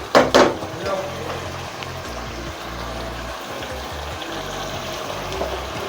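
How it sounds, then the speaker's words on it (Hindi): Water is poured into a pot of fried masala and tomato for a Bengali-style chicken gosht curry: a couple of sharp splashes at the start, then a steady soft pouring rush over a low background hum. "अब इसमें पानी डालना है।"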